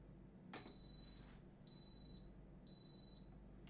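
Three electronic beeps from an Instant Pot pressure cooker as it begins a six-minute high-pressure cook, the first longer and the next two shorter, steady single tones over a quiet kitchen hum.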